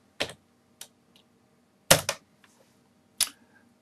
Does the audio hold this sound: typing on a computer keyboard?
yes